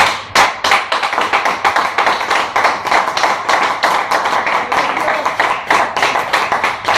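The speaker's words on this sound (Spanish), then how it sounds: "vamos a darle un aplauso, por favor." A church congregation claps steadily, a dense, close run of rapid hand claps that continues evenly throughout without pause.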